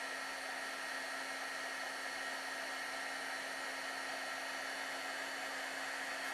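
Heat tool blowing hot air to melt embossing powder on a Christmas card, a steady continuous whirring hiss with a constant motor hum, close and unbroken, with no talk.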